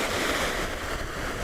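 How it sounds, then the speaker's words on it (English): Ocean surf breaks on a sandy beach at Cromer, a broad steady wash of wave noise with some wind buffeting the microphone. "There's a big wave coming in, it's mass."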